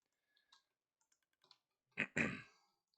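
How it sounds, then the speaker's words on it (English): A Minecraft Bedrock dropper circuit clicks in a video game, several faint, sparse ticks followed by two louder, closer clicks near the end, with no speech. "you can hear it clicking less quickly than the previous one"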